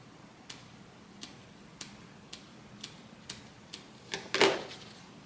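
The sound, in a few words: scissors snipping into a zipper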